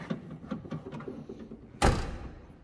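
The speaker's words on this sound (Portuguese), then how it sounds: "Bate muito macio o porta-mala" A Volvo sedan's trunk lid shuts with a single soft, muffled thunk after a quiet moment of faint background sound. The closing is short and close, with a brief low decay.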